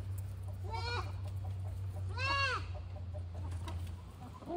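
A chicken in a farmyard herd gives two short bursts of clucking, one soft and one louder, over a steady low background hum.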